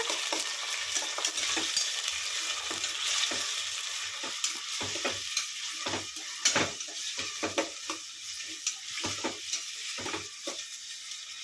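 Mustard seeds, green chillies and onions frying in a pan, giving a steady close sizzle with scattered crackles and pops and occasional stirring scrapes throughout.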